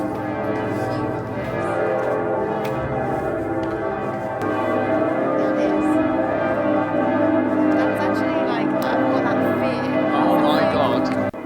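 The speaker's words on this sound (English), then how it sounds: "these bells were ringing and it was hard to even hear the person next to you talking" Huge cathedral bells in Switzerland ring loudly and continuously, their dense overlapping tones filling the space, with a busy crowd murmuring underneath throughout.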